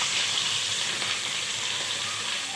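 Two chopped onions hit hot oil in a pan and sizzle with a steady, bright crackling hiss, close and continuous.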